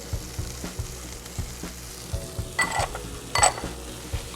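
Diced precooked ham sizzles and browns in a hot pan, a low steady frying crackle with occasional stirring scrapes and two brighter clinks of utensil against pan.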